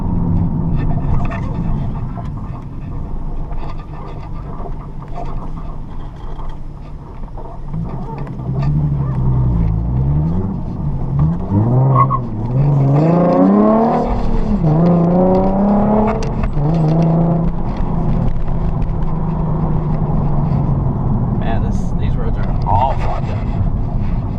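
A car on coilovers rolls over a rough, bumpy road with a steady low rumble, road noise and suspension noise from the rear; voices talk inside the cabin over the drone.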